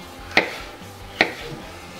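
Three sharp knife chops through vegetables on a cutting board, evenly spaced and close, with a quiet room behind them.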